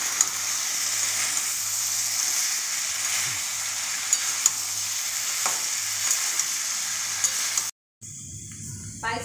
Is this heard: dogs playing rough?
no